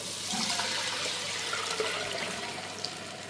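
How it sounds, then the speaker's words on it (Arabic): Strained tomato pours into a hot pan while cooking Alexandrian-style liver, giving a steady, soft watery pouring and sizzling wash that runs continuously at close range with no talk. "وهنزل بقى كده القوطه بتاعتي انا بقى مصفيه"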